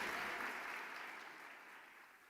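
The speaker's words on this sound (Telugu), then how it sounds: "సంతోషం ఉంటే గట్టిగా చప్పట్లు కొట్టాడు" A church congregation breaks into clapping that starts full and then tapers off gradually over a couple of seconds, fairly distant and diffuse.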